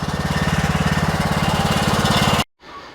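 A well-used riding lawn mower engine with over 1,000 hours runs loud and steady with a rapid pulsing chug, then cuts off abruptly, leaving quiet background.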